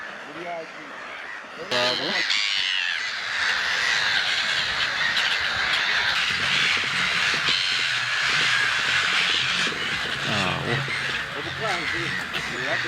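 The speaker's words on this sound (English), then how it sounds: "These include gray-headed gulls, greater cormorants, little egrets, and long-tailed cormorants, among other species." A dense seabird colony of gray-headed gulls, greater cormorants, little egrets and long-tailed cormorants on a small island calls continuously, with overlapping squawks and harsh croaks filling the scene under steady talking.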